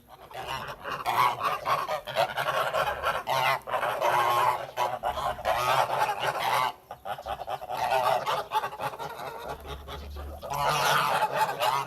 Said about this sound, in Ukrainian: Гусочки наші донямують кукурузку